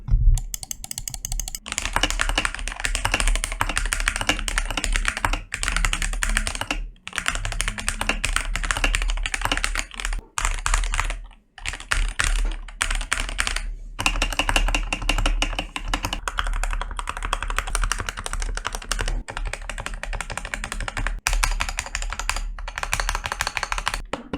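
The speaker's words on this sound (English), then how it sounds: "Here is the sound test of the DrunkDeer keyboard." Fast, continuous typing on a DrunkDeer A75 mechanical keyboard, dense clacky keystrokes close up with brief pauses, no talking.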